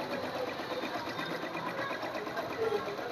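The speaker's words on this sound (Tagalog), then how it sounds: "Dito naman po sa center yung embroidery machine po natin." An embroidery machine runs in the center of a clothing shop, giving a steady, dense mechanical whir throughout with faint voices in the background.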